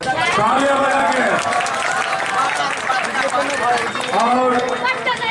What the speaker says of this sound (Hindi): तालियां बजा के